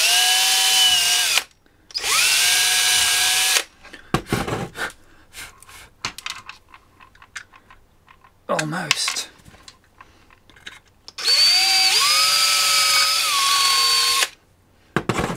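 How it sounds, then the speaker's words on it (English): A power drill whirs loudly in three separate bursts while drilling a hole in plastic, revving up and winding down, with quiet clicks, handling noises and a brief spoken word between them. "Those drill bits are so useful."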